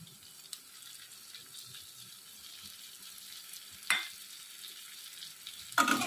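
Beans, carrots and capsicum stir-fried with onion over high flame for street-style chicken chow mein make a low, steady hiss, broken by two louder scraping bursts of the spatula near the end.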